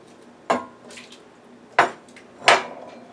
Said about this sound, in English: now we're going to add some red peppers